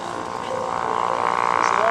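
An HU-16 Albatross amphibious aircraft flies slow and low at an airshow, its steady piston-engine drone building gradually, with an announcer talking over it.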